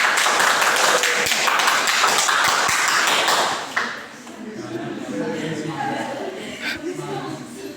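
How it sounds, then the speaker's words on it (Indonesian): A classroom of students claps hands in a dense burst of applause that fades after a few seconds, followed by quieter room noise with a voice talking. "kita tepuk tangan dulu"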